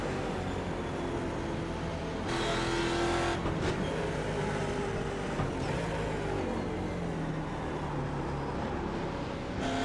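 A Ford Mustang racing car with antique suspension, driven in a racing video game, drones steadily with its engine, the pitch shifting slightly as gears change, mid-level and continuous with no talk.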